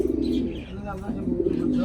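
Soft, low coos of pigeons sound close by, a throaty rolling call repeated over a few seconds with a voice faintly in the background.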